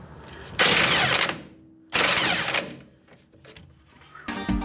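A ratchet or power tool works against a rusted bolt on a 1965 Mustang during brake and front suspension work, giving two loud, gritty mechanical bursts of about a second each, then lighter clicks and a final short burst.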